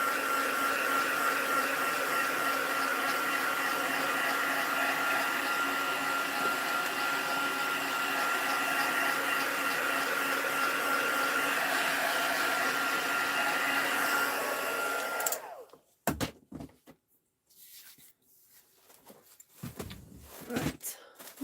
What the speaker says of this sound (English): So let's just get my heat tool. So the reason for this is just to dry off any ink.